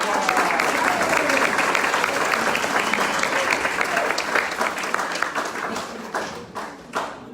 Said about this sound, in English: let's give them all another big round of applause